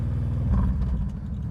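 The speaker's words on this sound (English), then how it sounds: "1800cc V-twin with Vance & Hines pipes on it." Deep rumbling idle of an 1800cc V-twin motorcycle engine fitted with Vance & Hines exhaust pipes, a steady low throb heard close and continuous with no talk.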